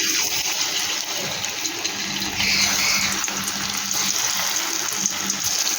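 Chhana (paneer) pakoras fry in hot oil, producing a loud, steady, close sizzling hiss that continues without a break.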